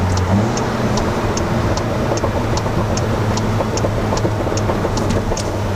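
Cabin of a Volkswagen Golf GTI Clubsport with resonator delete, engine on overrun in third gear: a steady droning hum with faint regular ticking crackles on top, loud and continuous throughout.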